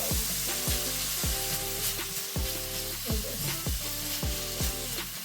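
Carrots and beef sizzle and fry in hot oil in a wok while making chao mian, a steady loud crackle broken by repeated scraping stir strokes and clanks about every second.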